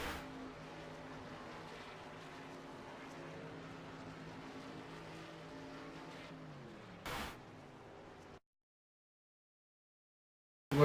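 A race car engine in iRacing at Dover, running under caution in an Xfinity car, drones steadily at moderate volume with a brief louder burst before cutting to silence.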